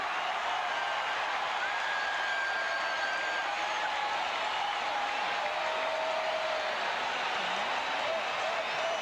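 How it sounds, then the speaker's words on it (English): Crowd at a Houston Astros baseball game against the Pirates, a broad steady murmur of many voices filling the stadium, continuous and moderately loud with no single standout cheer. "as we listen to this crowd react"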